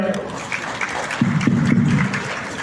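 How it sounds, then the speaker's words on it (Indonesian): An audience at an indoor meeting claps in a scattered patter, with a voice speaking over the applause partway through. "Tepuk tangan untuk Pak Roy."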